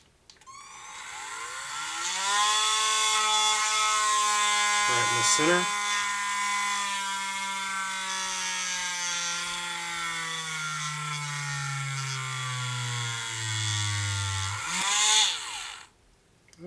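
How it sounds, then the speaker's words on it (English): A Dremel rotary tool drills into the tough plastic leg of an Iron Man toy, a steady high whine held close and loud for about twelve seconds, dipping briefly midway, with a short spoken remark at the start. "drill in here."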